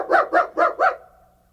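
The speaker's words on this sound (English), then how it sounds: "That's one long howl, 2 short, 1 yip and a woof." Four quick, evenly spaced dog barks close by, forming a short coded woof sequence with a fading tail after the last bark.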